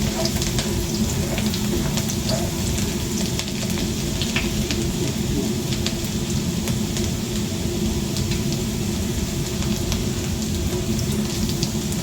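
Garlic, onion and ginger sautéing in a pan for chicken liver and gizzard adobo, a steady, loud sizzle and crackle of frying throughout with no talking.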